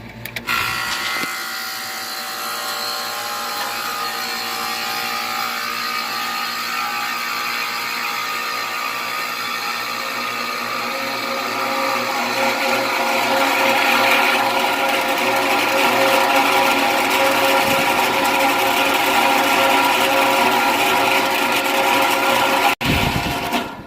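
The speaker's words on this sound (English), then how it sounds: "The reason it's making that loud grinding noise is because the bearings inside the motor have gone bad." Air conditioner fan motor with bad bearings, a loud continuous grinding whine that swells in the second half and cuts off abruptly near the end.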